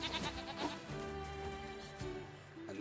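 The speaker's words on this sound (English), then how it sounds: "we've got a lot of sheep to be killing" Sheep bleat repeatedly in the video game Nier Replicant, several short wavering cries overlapping against a steady game background, moderately loud and with no talk.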